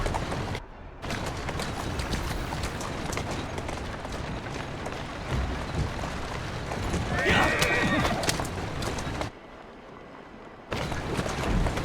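Horse whinnying alongside clip-clopping hooves and carriage noise in the Assassin's Creed Syndicate video game, set against continuous busy street ambience, with someone talking.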